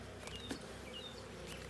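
Honeybees buzz around an open hive during an inspection, a faint, steady hum of many insects with a few brief louder passes near the listener.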